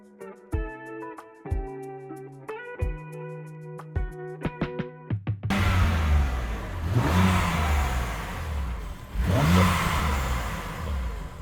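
A BMW F80 M3 fitted with front mount intakes revs hard twice, its engine note rising and falling loudly after a stretch of plucked synth notes at the start.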